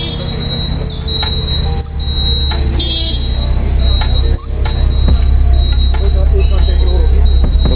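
BMW Z4 M40 sports car arriving at a supercar meet, its steady engine rumble mixed into busy outdoor noise, with someone talking over it.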